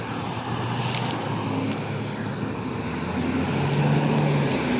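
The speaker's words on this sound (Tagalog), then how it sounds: "Dami nga sasakyan." Busy road traffic with many vehicles makes a steady, loud broadband rumble of engines and tyres. It runs throughout with no clear voices.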